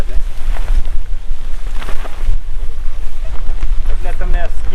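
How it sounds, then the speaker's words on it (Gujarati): Strong wind gusts buffet the microphone beside a newly pitched Quechua tent, a steady loud rushing roar throughout with a voice talking over it. "અત્યારે પવન તો ઘણું આવે છે"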